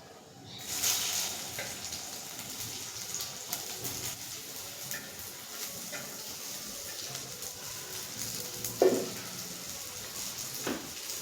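Chopped onions and cumin hit hot oil in a pan with a sudden hiss that settles into a steady, soft sizzle, heard mostly alone and fairly faint.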